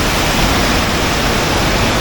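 A waterfall at Dhutpapeshwar temple pours in a loud, unbroken wash of broadband rushing water that holds steady throughout, close and dense with no other sounds standing out.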